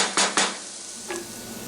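Ground meat, a little over a pound, stirred in a frying pan, with two quick scraping clatters of a utensil against the pan near the start and a softer scrape later over a faint background.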